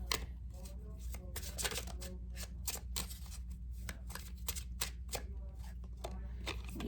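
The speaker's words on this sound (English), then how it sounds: "I'm going to pull a couple more cards from this deck, and then I'll switch the deck up a little bit." A deck of tarot cards is shuffled and cards are pulled, making a quick run of crisp riffling and flicking bursts, close and clear, with no talk.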